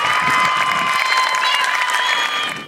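High school graduation crowd applauding and cheering for students, loud continuous clapping mixed with shouts and whoops from a large audience.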